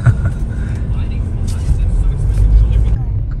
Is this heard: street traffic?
yes